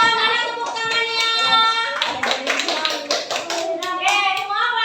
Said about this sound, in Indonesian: Kasih tepuk tangan dong buat kelompok 3